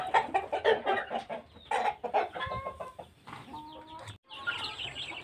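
Free-range village chickens clucking and chattering nearby while pecking at feed, a string of short, uneven calls with brief pauses, heard clearly without talk.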